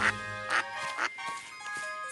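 Cartoon duck quacks in an ABC Mouse children's grammar learning game, three short bright calls at a steady spacing over a soft musical background, clear and close.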